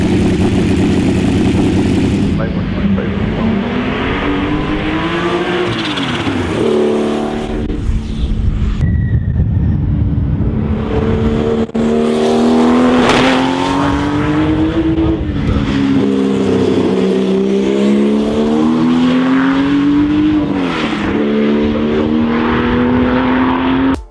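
A Porsche race car engine in the Porsche Unleashed racing game drones loud and close, revving up and down through repeated gear changes with a steady buzzing tone and no voices.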